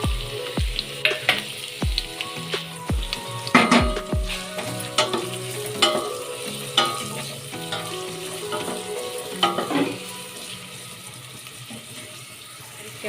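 Finely chopped onion hitting hot oil in a pan for palak dal, with a bright sizzle and a run of clattering spoon and pan knocks at first, then settling into a steady fry.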